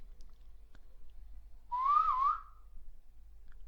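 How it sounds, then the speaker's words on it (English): A single clear whistle, rising and wavering for about half a second, sounds out of near silence in a quiet night setting, alone and moderately loud. "we both hear a whistle"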